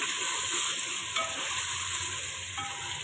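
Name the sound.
frying garlic ginger paste with spices and tomato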